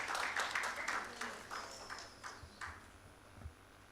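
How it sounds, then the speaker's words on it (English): Applause from a conference audience welcoming a speaker to the stage: faint, scattered clapping that thins out and fades over a few seconds. "Let's give a big round of applause and welcome him."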